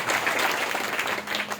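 A church congregation applauds a testimony with dense, continuous clapping that fills the room evenly from start to finish, moderately loud and unbroken.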